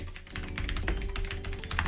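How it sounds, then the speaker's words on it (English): Fingers clatter loudly across a computer keyboard in a quick, uneven burst of close keystrokes, unaccompanied by any voice. "You can hear me typing loudly."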